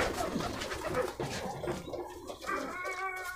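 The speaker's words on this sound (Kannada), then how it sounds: "ಪಾರಿವಾಳ ಒಂದು ಹಿಡ್ಕು." A pigeon at an animal rescue centre gives a short, soft coo near the end, faint against low background noise.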